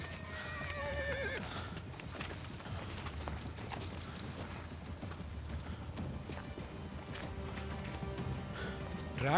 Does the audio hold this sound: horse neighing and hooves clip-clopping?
yes